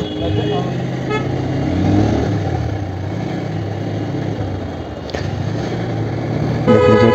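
Heavy, jammed road traffic heard from a motorbike: a steady rumble of idling engines, with a short horn toot near the start and another near the end.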